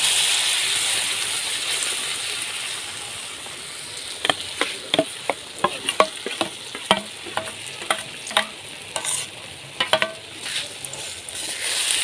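Ground pea dal paste hitting tempered spices in hot oil for a Bengali dhokar dalna, with a steady sizzle and a run of sharp scraping stirs against the pan.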